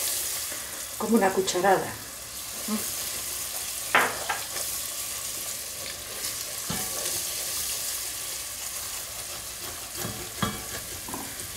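Flour being sautéed with browning onion in a pan, soft sizzling and a few stirring scrapes near the start and middle, with a brief voice speaking over it.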